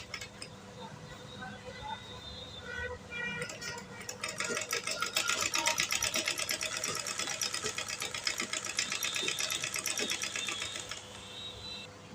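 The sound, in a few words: sewing machine stitching a blouse button placket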